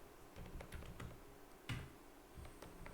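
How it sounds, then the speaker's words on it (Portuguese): Quiet, irregular keystrokes on a computer keyboard, soft clicks tapping unevenly with no talking. "Estou digitando errado aqui"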